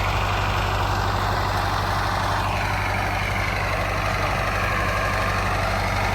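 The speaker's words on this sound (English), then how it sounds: "Don't particularly like standing this close to that bush hog." An old tractor running a bush hog mower, heard up close as a loud, unbroken low engine drone with a steady rumbling throb and faint higher whine above it.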